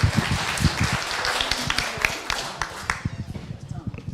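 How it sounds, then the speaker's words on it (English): At a public debate, an audience gives a speaker scattered, crisp applause that thins out into sparse individual claps, with voices underneath. "Give her a round of applause as she starts."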